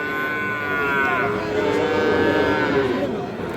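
A Sahiwal bull calf at a cattle market lets out long, drawn-out moos close by, two sustained calls with faint crowd murmur behind.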